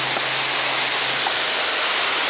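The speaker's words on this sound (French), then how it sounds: "avec le bruit de la cascade, c'est mortel" A waterfall roars as a dense, even rush of broadband noise, close and loud, with no voices over it.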